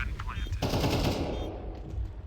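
Counter-Strike match gunfire: a rapid, loud automatic burst bursts in after a brief lead-in, then decays into a reverberant tail.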